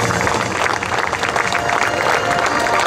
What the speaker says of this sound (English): they deserve our round of applause